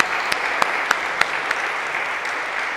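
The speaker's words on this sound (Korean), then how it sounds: "다시 한번 박수로 격려하겠습니다" A church congregation applauds during a Sunday service, a steady wash of clapping with a few sharp, louder claps standing out near the front.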